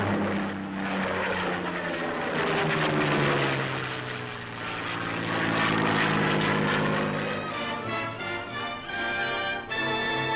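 A propeller airplane passes overhead above apple orchards in blossom during aerial pollination, its engine drone swelling to a peak and then easing off, steady and fairly loud with no voices.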